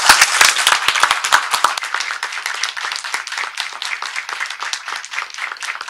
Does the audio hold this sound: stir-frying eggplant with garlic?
no